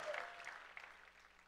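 A church congregation applauding after an Easter service with an egg hunt for children, a soft, dense patter of many hands that swells briefly and then thins out at a moderate distance.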